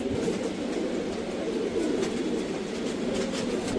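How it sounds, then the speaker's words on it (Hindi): Punjabi pigeons cooing steadily and up close, a continuous low throaty burble with no talking over it. "पंजाब के नामी गिरामी चुनिंदा खिलाड़ियों के कबूतर"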